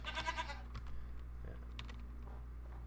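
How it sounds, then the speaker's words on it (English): Goat bleats in a video game with a short, wavering cry at the start, fairly faint over a steady low hum, followed by a few soft clicks. "There's a goat."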